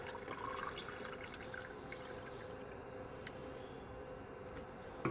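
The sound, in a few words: water poured into DIY water filter, dripping through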